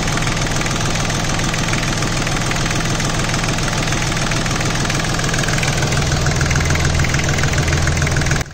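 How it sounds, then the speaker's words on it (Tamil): A Massey Ferguson 6028 28 hp 4WD mini tractor's diesel engine idles steadily nearby, a loud, continuous chugging rumble with a rapid knocking pulse and no voices. "இந்த இன்ஜின் ஆல்ரெடி ரன் ஆகிட்டு இருக்குது."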